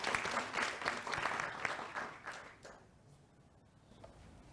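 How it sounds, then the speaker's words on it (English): Audience applause at a business conference session as a speaker walks up to the lectern, a steady round of clapping that fades out after about three seconds into quiet room tone. "we'll give a warm round of applause as you approach the lectern"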